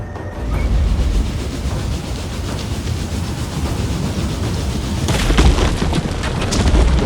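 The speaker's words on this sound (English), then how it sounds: "I decide to try some onager shots myself" Onager siege catapult shots fired at a gate tower in the battle game Total War: Attila: dull booming impacts over a steady, loud, rumbling battlefield din, with a sharper burst of crashes near the end.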